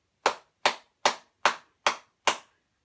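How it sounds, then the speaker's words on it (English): Hands clapped together six times in a slow, even rhythm, each clap sharp and close, with clean silence between them and no talking. "We could clap our hands together."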